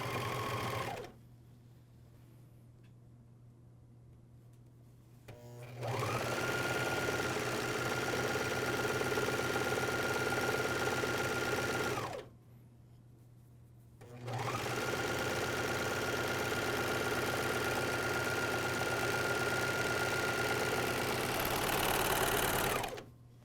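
A MyLock 454D serger sews a pajama seam in two long, loud bursts of fast, steady whirring, separated by a quieter pause with a low background hum.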